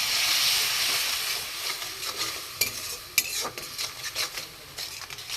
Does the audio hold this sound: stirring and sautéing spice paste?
yes